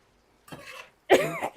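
Two short coughs, the second harsher and louder, close by with a brief pause between them.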